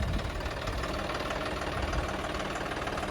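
A tractor engine rumbles steadily in a farm field with a knocking, vibrating low drone, close and continuous with no voices.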